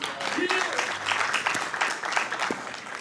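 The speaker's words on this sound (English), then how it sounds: "I just want to acknowledge you and give you a round of applause" Applause at a city council meeting, a dense steady wash of clapping lasting the whole stretch, with voices talking over it.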